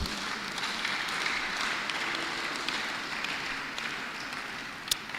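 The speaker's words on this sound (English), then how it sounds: "A round of applause for our bishop." Audience applause at a church seminar in the Diocese of Lagos, a steady, fairly faint wash of many hands clapping throughout, with a sharp pop near the end.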